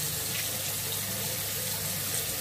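Tap water runs steadily into a sink at close range, a continuous loud hiss and splash with no pauses and no voices.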